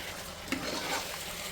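Marinated chicken with fried onions, garam masala and kasuri methi sizzles in a hot pan as it is stirred, a soft steady frying hiss with a few scraping clinks of the spoon.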